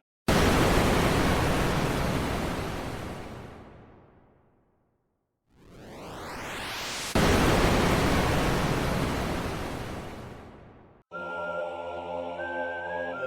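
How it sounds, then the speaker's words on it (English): Pyrotechnics sound effect from the video game Sprunki: loud hissing noise bursts that fade away, a rising whoosh, another long hiss, then a buzzy tonal hum at the end. "sound of pyrotechnics."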